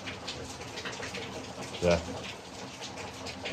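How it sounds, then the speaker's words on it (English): Heavy rain bucketing down outdoors at a restoration site in Italy, a steady broadband wash with one brief louder splash; a voice speaks a single short word over it. "It's been raining. It's getting worse and worse. It's properly bucketing down now"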